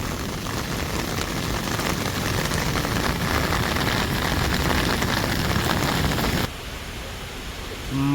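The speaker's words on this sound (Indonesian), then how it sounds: "Ini hujannya juga semakin lebat." Heavy rain pours down in a dense, loud, steady hiss during gusty wind near a volcanic lahar flow, then drops abruptly to a quieter background for the last couple of seconds.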